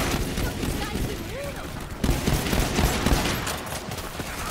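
Rapid bursts of video game gunfire crackle in quick succession, loud and sustained, while a player talks over the shooting.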